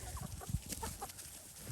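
A farmyard rooster gives several short, close clucks in quick irregular bursts, with a soft outdoor background.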